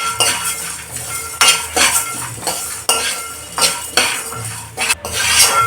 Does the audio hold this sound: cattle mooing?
no